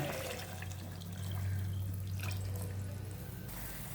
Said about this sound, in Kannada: ಕಾಯಿಸಿಟ್ಟಿರೋ ನೀರು ಹಾಕೋಣ